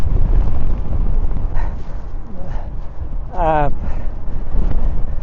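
Buffeting wind roars across a microphone while cycling into a headwind of about 25 km/h, a loud low rumble throughout, with brief higher whining and yipping sounds breaking through near the middle.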